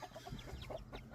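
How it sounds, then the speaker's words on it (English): Backyard chickens cluck in short, soft bursts, a few quick overlapping calls close by but faint over a brief moment. "Chickens are doing good. Let me show them right now."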